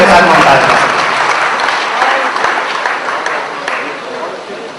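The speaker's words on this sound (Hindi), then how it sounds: "जोरदार तालियों के साथ" A large audience applauds loudly at a Hindi kavi sammelan poetry gathering, a dense, sustained roar of clapping that fills the room and eases off only slightly toward the end.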